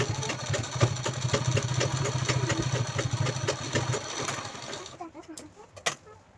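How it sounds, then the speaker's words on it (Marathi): Sewing machine stitching along the side of a purse near the chain, a steady rapid mechanical chatter of the needle running for several seconds before slowing and stopping, with a few clicks at the end. "तर या साईडने पण आपण स्टिच करून घेऊ."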